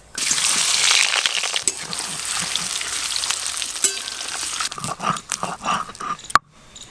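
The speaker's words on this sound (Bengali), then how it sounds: "আলুগুলো লাল লাল করে ভেজে নেব।" Potatoes frying in hot oil for Kashmiri aloo dum give a loud, dense, steady sizzle up close. Later, scattered scrapes and stirring knocks break in before the sizzle cuts off abruptly.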